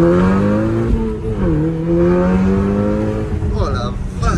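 An Audi TTS engine pulls hard under acceleration from inside the car, a loud continuous droning roar whose pitch climbs, dips at a shift, then climbs again.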